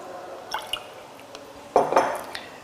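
Filtrate liquid from a classroom sand filtration experiment is poured out of glassware, giving a few light drips and then a brief, louder splashing pour near the end.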